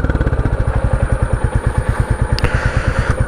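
A 2023 Royal Enfield Bullet 350 single-cylinder motorcycle idles with a steady, loud, even thumping exhaust beat, close up and alone, with one brief metallic click partway through.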